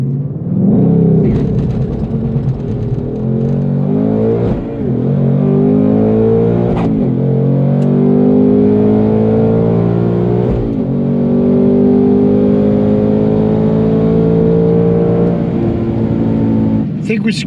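A 2024 Ford Mustang Dark Horse runs down a dragstrip with its engine loud and continuous, rising in pitch through each gear and dropping briefly at several quick shifts over about seventeen seconds.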